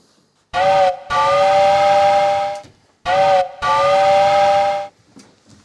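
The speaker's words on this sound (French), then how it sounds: "Les filles, ça vous dit d'essayer la machine à vapeur?" A toy steam engine sounds its whistle in two long, loud blasts, each broken by a brief stutter near the start, with quiet pauses between and a faint hiss at the end.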